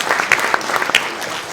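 A short burst of crowd applause, brisk and moderately near, with a few louder individual claps standing out.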